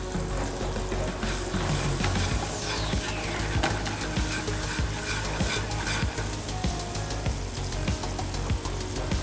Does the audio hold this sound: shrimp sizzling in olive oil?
yes